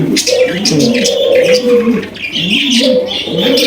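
Indian pigeons coo close by in soft, rolling phrases, with a few light chirps mixed in and no voices.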